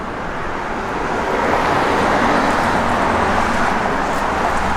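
A 1969 Pontiac Grand Prix rolls steadily along a road, a continuous broadband rush of tire and wind noise with a low engine hum, loud and unchanging.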